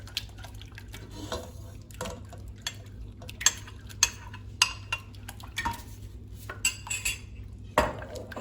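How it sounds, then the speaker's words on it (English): A utensil stirs a mixture of corn flour, milk and yogurt in a bowl, with repeated light metallic clinks and taps against the dish, some sharp and distinct, over quiet background, no talk. "we've added a tablespoon of corn flour to the milk, which we're going to add to the yogurt while we stir"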